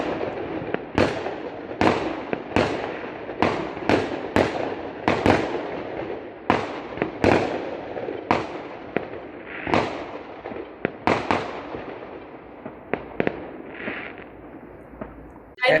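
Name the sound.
firecrackers going off in the distance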